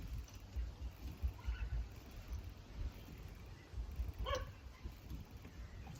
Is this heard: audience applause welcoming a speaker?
no